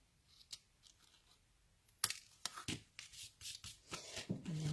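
Scissors snip paper flower stems at a card-making craft table, giving a short run of soft, close cuts and paper rustles after a quiet start.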